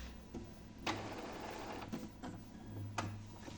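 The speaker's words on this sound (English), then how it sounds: "Turn off the printer and turn it on again." An Epson WF-2510 inkjet printer powering back on, giving off quiet mechanical whirring and a few soft clicks and clunks as its mechanism moves, heard close and alone.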